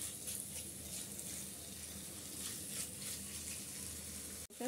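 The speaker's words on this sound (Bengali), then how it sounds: "মাংসটা হালকা একটুখানি মশলার সাথে কষিয়ে নিচ্ছি।" Meat sizzling with spices in a pan, a quiet continuous frying hiss, close and steady, with a brief knock near the end.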